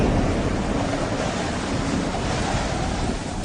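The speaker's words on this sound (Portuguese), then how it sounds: "um vento muito forte, chamado Nordeste, veio da ilha" A strong northeasterly gale blows off the island of Crete across the open sea, a dense, continuous roar of wind and surf that stays loud and steady throughout.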